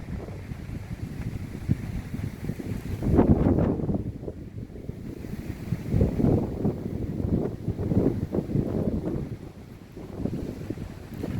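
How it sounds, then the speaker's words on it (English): Wind picks up through a young pine stand in a southern wildlife management area, with gusty rumbling buffets against the microphone that swell and ease and no voices. "look at the wind picking up"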